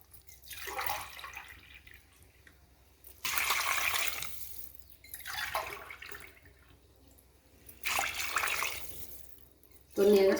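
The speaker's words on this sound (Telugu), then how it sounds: "అది నీళ్ళు వేసుకుంటాం." Water is poured into a cooking pot of basmati rice in a home kitchen, heard as three separate splashing pours with quiet gaps between them, fairly soft and close.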